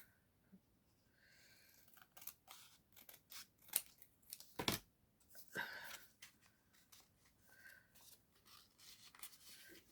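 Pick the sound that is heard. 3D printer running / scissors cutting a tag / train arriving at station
scissors cutting a tag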